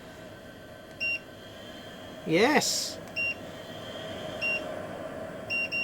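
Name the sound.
Fumeclear FC-100A fume extractor control panel button beeps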